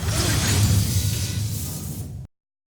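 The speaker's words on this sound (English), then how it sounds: "I got these mechanical transform sounds" Mechanical Transformer-style transform effect: a dense, loud burst of whooshing, grinding mechanical texture with heavy low rumble, sustained for about two seconds before cutting off abruptly.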